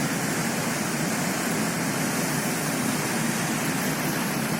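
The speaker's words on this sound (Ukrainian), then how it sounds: "Ще один водоспад недалеко від Трура." Steady, dense rushing of a waterfall near Truro on a spring day, a river partly iced over, heard close and continuous with no pauses or voices.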